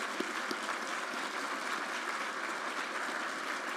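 Sustained audience applause at a conference fills the room at a steady, moderately distant level, dense and even throughout with no voices standing out.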